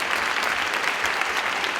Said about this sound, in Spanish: Un fuertísimo aplauso, por favor